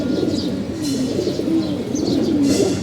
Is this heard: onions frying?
no